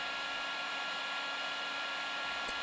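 A heat gun blows hot air onto a Hendey lathe apron part, a steady close hiss with a faint whine, heard alone without talk.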